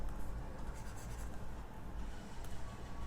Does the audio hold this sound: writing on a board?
yes